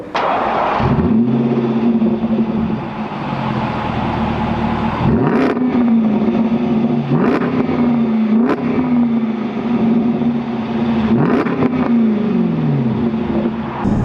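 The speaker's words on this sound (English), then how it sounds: "let's hear this beautiful 5-litre V8 start up and give us a bit of noise" A Jaguar XKR's 5-litre V8 engine cranks and catches, settling into a deep burbling idle, then is revved sharply several times, each blip rising and falling back.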